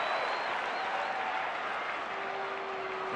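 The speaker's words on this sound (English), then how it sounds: "A first pitch strike, and the Bronx cheer." A baseball crowd at a Phillies-Cubs game at the Cubs' home park gives a mocking Bronx cheer after a first-pitch strike, a steady wash of distant, massed cheering and clapping that lasts throughout.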